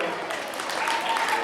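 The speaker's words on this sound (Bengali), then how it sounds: "জোড়া হাততালি হোক" Applause from an audience at a school event, moderately loud continuous clapping with some voices mixed in beneath it.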